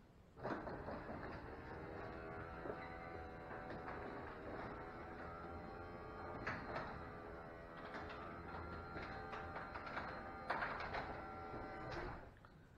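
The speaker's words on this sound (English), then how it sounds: "Listen to that really quiet garage opener." A quiet garage door opener runs steadily as it closes the door, a low continuous motor hum and rail rumble with faint clicks, fairly soft and unbroken for the whole stretch.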